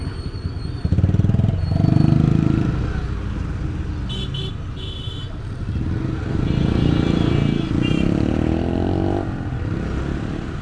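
A motorcycle engine drones loudly and steadily on a road ride, rising and falling with throttle while a brief horn toot and other traffic pass nearby.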